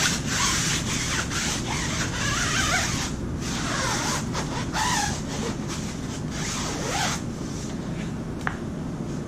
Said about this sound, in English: You're going to take this brush and just scrub it as much as you can.